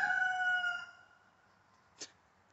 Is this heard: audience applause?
no